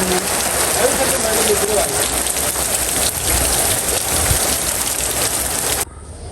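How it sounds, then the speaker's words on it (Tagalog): Heavy rain from Typhoon Aghon pours down in a dense, continuous roar of drops pattering on surfaces, loud and close, cutting off abruptly near the end. "Grabe po, lalo pang lumakas ang ulan."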